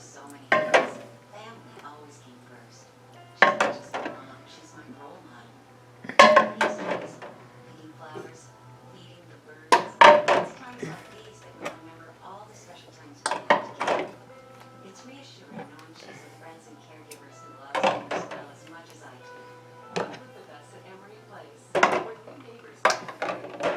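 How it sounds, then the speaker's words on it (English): Glass canning jars set into a pressure canner with carrots: a series of scattered clinks and hollow knocks, some sharp and close, spread irregularly over the stretch with quiet gaps, while a person talks intermittently. "Now comes putting the jars in."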